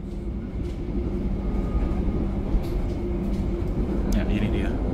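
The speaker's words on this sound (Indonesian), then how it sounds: "selamat menikmati ASMR kereta api Pangandaran yang akan saya sajikan" Pangandaran passenger train running along single track, a steady loud low rumble of wheels and carriage filling the interior, with brief faint higher squeals near the end.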